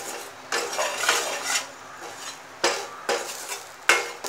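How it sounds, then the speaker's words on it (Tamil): Okra with turmeric and salt sautéed over a low flame, a spoon scraping and clanking against the pan in several separate bursts, near and fairly loud, with a soft sizzle underneath. "ஒன்றா போட்டு கொஞ்சம் ஸ்லோ ஃபயர்லேயே வச்சுக்கோங்க ஸ்லோ ஃபயர்லேயே வச்சு நல்லா வதக்கிடலாங்க"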